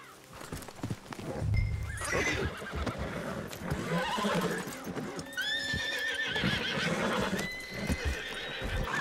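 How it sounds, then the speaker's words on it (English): Horses in the Red Dead Online video game whinny and neigh over steady clip-clopping hooves, with several distinct calls rising above a busy, continuous game soundscape. "Horses."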